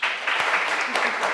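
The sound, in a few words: audience applause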